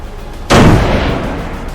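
A tank's main gun fires once in Arms Trade Tycoon Tanks, a sudden loud, deep boom whose rumbling tail fades slowly after a quiet lead-in.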